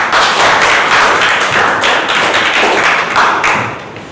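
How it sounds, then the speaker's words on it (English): A lively room of Toastmasters club members claps for a speaker at a meeting, loud and close, with dense applause holding steady for about four seconds before tapering off at the end. "please welcome with a big round of applause"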